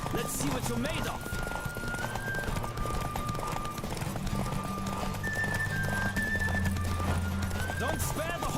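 A horse gallops at speed in a race in the video game The Witcher, with steady clip-clop hoofbeats, occasional whinnies and a busy game soundtrack layered beneath, while voices call out.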